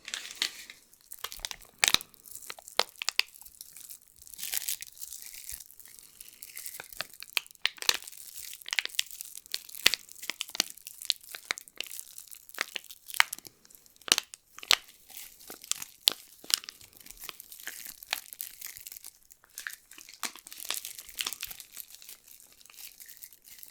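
An IKEA candle is handled close to the microphone, with dense crinkling, crackling and crunching in irregular bursts that are loud and near, with no talk.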